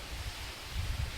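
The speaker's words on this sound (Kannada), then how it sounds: "ಈಗ ಗಾಳಿ ಮಳೆ ಸ್ಟಾರ್ಟ್ ಆಯಿತು, ಜೋರಾದ ಗಾಳಿ ಬರ್ತಾ ಉಂಟು ಹೊರಗಡೆ" Strong wind blowing outside during a rainstorm, a brief, fairly faint broadband rush with low gusty rumbles swelling toward the end.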